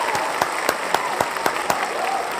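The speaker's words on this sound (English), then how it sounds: "Big round of applause for yourselves." A crowd at a members' gathering claps in a round of applause, steady dense clapping with a few sharper claps standing out, close and loud, with faint voices mixed in.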